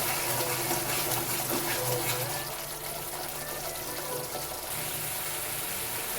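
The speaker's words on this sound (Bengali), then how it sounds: "মশলার বাটি ধোয়া জল দিয়ে দিচ্ছি অল্প" Spice-bowl rinse water poured into a hot pan while a Bengali winter vegetable curry of flat beans and potatoes cooks, a steady continuous pouring wash of liquid with sizzling underneath, fairly loud and close.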